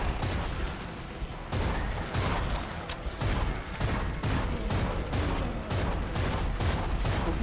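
Rapid gunfire from the video game BloodShed rattles on without a break in dense, sharp bursts of shots, loud and continuous throughout.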